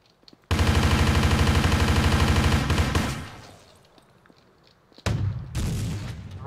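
Loud, sustained bursts of rapid synthetic gunfire in the video game Torrente Online, a long dense volley, then a pause and a second heavy barrage, with no talking.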